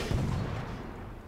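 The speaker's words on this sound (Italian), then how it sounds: "Questo un bel colpo proprio sul cingolo." A heavy boom from a toy tank's cannon striking an enemy tread in the video game Toy Soldiers, a single loud low impact that rumbles and fades over about a second.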